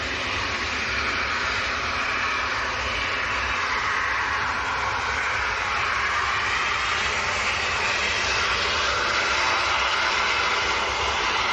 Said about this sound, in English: Ryanair lining up next, more aircraft coming across for departure as well